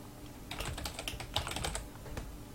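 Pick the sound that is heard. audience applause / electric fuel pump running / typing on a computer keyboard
typing on a computer keyboard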